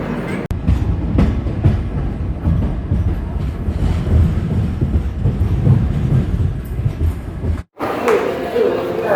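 The Shipra Express from Howrah to Ujjain rolls along the rails with a loud, steady rumble and rhythmic clatter, with voices faintly present. It cuts out briefly near the end, then returns thinner and quieter.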